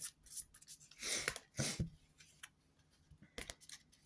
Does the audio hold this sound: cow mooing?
no